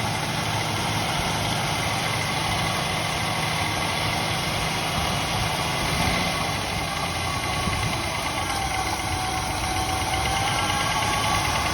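A 1969 Buick Skylark, a barn find off the road for 36 years, idles steadily with a mid-pitched rumble and a slight clatter, loud and close throughout.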